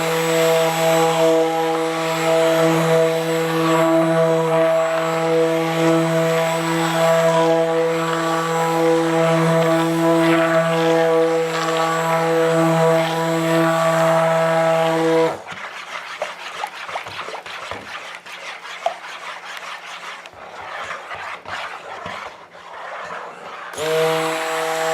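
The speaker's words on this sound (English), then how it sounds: "with a lot of hand blending and minimal immersion blending" An immersion blender mixes a batch of rebatched Dayglo soap, giving a loud, steady motor whir for about fifteen seconds before it stops, leaving quieter, irregular stirring and scraping sounds.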